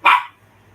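A single close, loud dog bark, one sharp burst that quickly fades into a quiet background hum.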